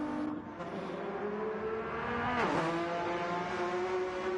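Race car engines from a racing video game, including a Ferrari, drone at a steady high pitch, with one car sweeping past in a quick rising-and-falling pass midway, fairly faint.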